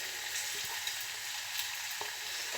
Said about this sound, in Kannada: ಇವಾಗ ಈ ಕಟ್ ಮಾಡಿರುವಂಥ ಎಲ್ಲ ನೀರ್ದೋಸೆ ಪೀಸಸ್ನೆಲ್ಲ ಇದಕ್ಕೆ ಹಾಕ್ತಾಯಿದ್ದೀನಿ ನಾನು